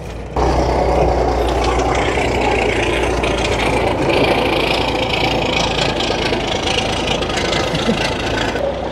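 A 1981 GMC Astro cabover truck with a Big Cam diesel engine runs steadily and loudly close by, a continuous low rumble with some knocking texture lasting throughout.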